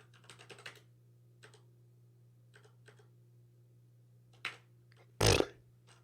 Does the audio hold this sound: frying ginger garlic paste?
no